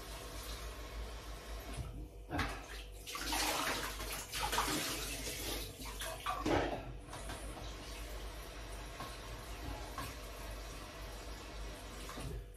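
Tap water pours into a cooking pot while making Filipino chicken tinola, a broad steady gush that swells in bursts and tails off, heard alone at moderate level in a home kitchen.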